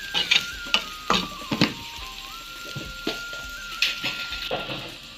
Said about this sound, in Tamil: மசாலாவோட பச்சை வாசனை போகும் வரைக்கும் கொஞ்சம் வதக்குவோம்.